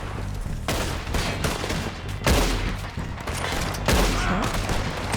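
Rapid gunfire from a Red Dead Redemption 2 shootout at cabins, dense overlapping shots with several louder bursts over continuous background noise, loud and close.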